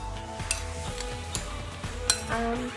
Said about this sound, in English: I am going to give this a good stir just to combine all the flavors together